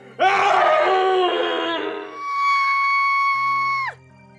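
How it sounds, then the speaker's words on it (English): A woman screams loudly in outrage during a stage show, a long piercing wail that breaks into a sustained high shriek before cutting off abruptly. "the only thing she can do is start screaming"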